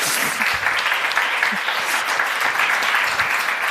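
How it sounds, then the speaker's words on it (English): Audience applause at a summit session as two team members are called onto the stage, a loud, dense wash of clapping from a large crowd that holds steady throughout. "because they need a big applause."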